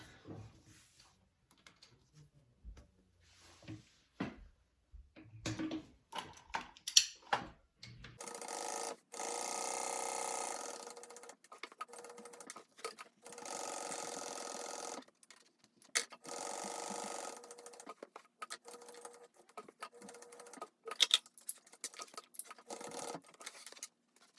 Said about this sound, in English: now I'm going to sew around that